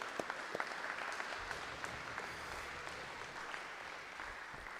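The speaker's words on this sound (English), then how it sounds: "Let's give a round of applause." A graduation ceremony audience gives a sustained round of applause, a fairly distant, even wash of clapping from a large crowd that softens slightly toward the end.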